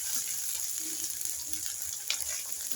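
Ginger with ginger-garlic paste and cumin paste frying in a pan for a Bengali hilsa and vegetable dish, giving a soft, steady sizzle with faint crackles and a few small pops near the end.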